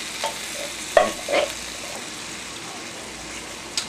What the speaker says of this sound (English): this is where you add the tomato sauce. Add tomato sauce.